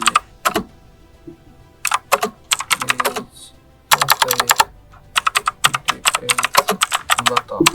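Close computer keyboard typing in quick irregular bursts of crisp key clicks, pausing briefly between phrases, then resuming in denser runs with a few heavier keystrokes.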